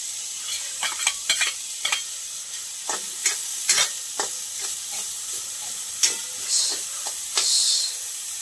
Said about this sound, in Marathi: पुन्हा एकदा गॅस पेटून त्यामध्ये कांदा परतायला घालूया